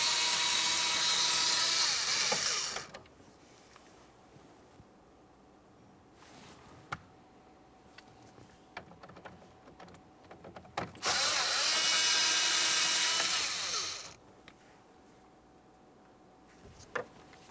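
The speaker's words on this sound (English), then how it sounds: "we can remove our two 8mm headed bolts that hold this in place" A power tool whirs loudly in two bursts of a few seconds each while backing out two 8mm bolts from a 1999-2006 Chevrolet Silverado 1500 dash, with quiet clicks and handling noises between them.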